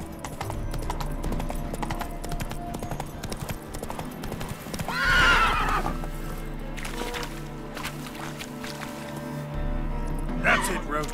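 Roach, the horse in The Witcher 3, walks with a rhythmic clip-clop of hooves and gives a clear neigh midway, with a voice speaking over parts of it.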